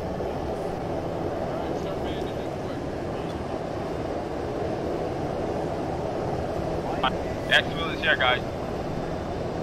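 Military video game helicopter after landing, a steady broadband engine and rotor drone that runs the whole time, with a voice talking over it.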